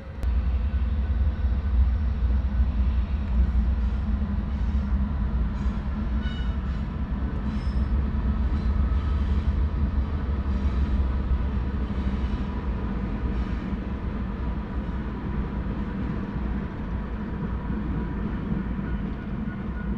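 A heavy train rumbles steadily past nearby, deep engine drone with faint metallic rattles and clicks throughout.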